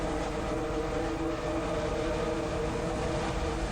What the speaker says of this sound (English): Hard wind.